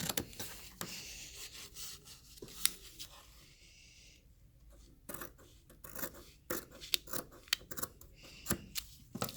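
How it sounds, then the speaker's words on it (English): Shears make a straight cut down a length of fabric, giving soft scraping snips in irregular bursts with short pauses between them, close and fairly quiet, with no talking. "So I'm then going to take my shears and just do a straight cut down."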